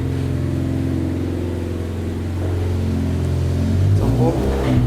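A modified Honda Civic fitted with aftermarket exhaust headers idles with a low, throaty burble, then revs up louder near the end, close by, with no talk over it.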